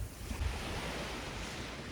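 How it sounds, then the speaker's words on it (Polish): Waves of the cold Atlantic Ocean wash onto a beach in Lofoten, Norway, a continuous faint surf roar mixed with wind buffeting the microphone, with no voices. "To już Ocean Atlantycki i woda bardzo, bardzo zimna."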